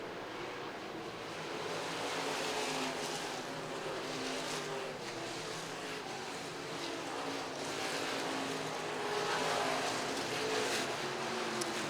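IMCA stock cars at RPM Speedway during Fall Nationals qualifiers, engines roaring steadily down the back straightaway, a dense continuous drone with no talk.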